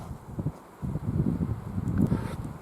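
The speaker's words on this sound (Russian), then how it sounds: "Сильный ветер" Strong winter wind in the taiga forest buffets the microphone in a steady low roar that gusts louder and softer, with a faint rustle on top.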